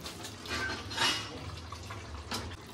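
Boiled water and soaked rice poured into a cooker pot for country chicken biryani, a soft steady pour and splash with a couple of brighter pulses, close and moderate in level.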